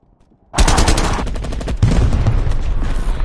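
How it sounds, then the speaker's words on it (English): Heavy artillery fire in a PS4 war game: a sudden loud blast opens after half a second of quiet, then dense, sustained booming and rumbling continues, with another strong impact near the two-second mark. "artillery."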